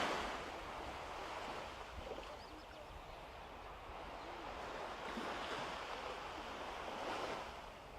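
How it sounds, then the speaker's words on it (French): Sea waves wash steadily onto the seashore in a continuous broad roar with gentle swells and some wind noise, heard alone without talk throughout. "Laissez le rythme des vagues vous bercer."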